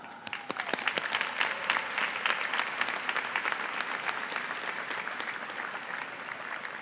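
A large audience at a university diploma and awards ceremony applauds steadily, a dense wash of clapping that holds strong and slowly eases toward the end.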